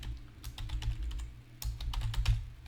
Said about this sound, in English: if I type some Python code in here